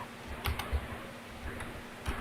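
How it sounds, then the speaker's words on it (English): A handful of sparse, light keystrokes on a computer keyboard tick close by over a low steady hum, spaced unevenly with gaps between presses. "I'm typing something."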